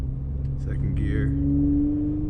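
Acura TL with a short shifter and new bushings pulling hard in second gear, its engine drone rising steadily in pitch across the clip while a voice speaks briefly over it.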